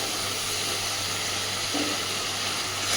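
Chopped tomato and slit green chillies hitting hot oil with spice paste for a sardine fish curry, giving a steady close hiss and sizzle that swells slightly near the end, with no talking.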